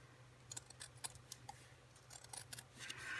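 Right-handed scissors snip through material in a quiet room: a rapid series of light, crisp cutting clicks in short bursts, with no voices.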